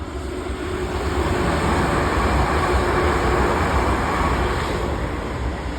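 A train rolls past close by in a loud, steady roar of wheels and rail noise that holds for several seconds without pause, broad and rushing.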